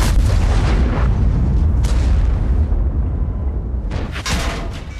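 A tank shell slamming into an armored vehicle in the game World of Tanks, a loud close boom with rumbling explosive impacts and a second hit near the end.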